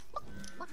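A brief clucking chicken call from the video game Realm Royale, two quick squawky notes heard alone.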